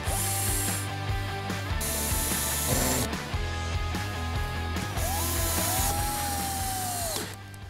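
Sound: assembling a wooden ladder frame for an outdoor kitchen

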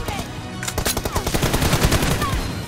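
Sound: gunfire, hip-fire shooting in a mobile shooter video game

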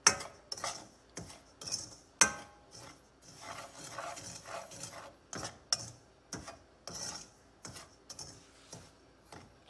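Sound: stirring semolina (suji) roasting in a pan

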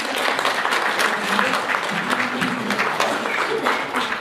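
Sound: audience applause

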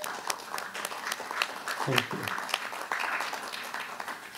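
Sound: round of applause for the honorees at a meeting

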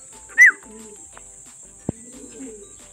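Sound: racing pigeon cooing as it returns to the loft

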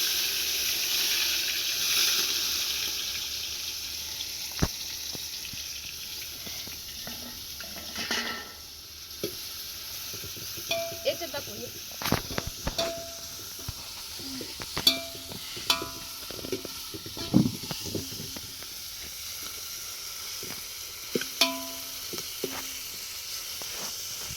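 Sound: tomatoes frying in oil with spices

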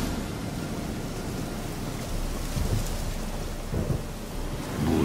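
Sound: thunderstorm with rain in video game The Witcher 3

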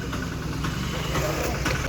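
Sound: auto rickshaw engine idling

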